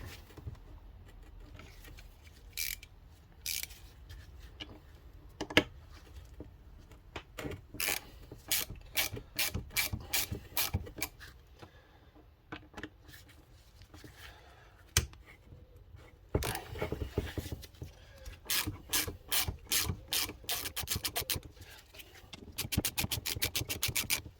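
A ratchet backs screws out of an Audi Q7 air suspension compressor on a workbench, with bursts of rapid clicking separated by short pauses, close and fairly loud.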